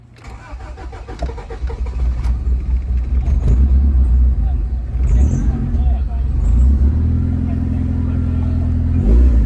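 A Kubota DC70 combine harvester's engine runs with a deep, steady rumble that builds and holds loud throughout, with a sustained drone rising near the end, close to the machine.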